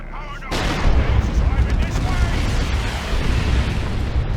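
A Leman Russ tank's main battle cannon fires in the game Dawn of War 2, a heavy booming blast followed by rumbling explosions and battle noise; a voice is heard faintly underneath.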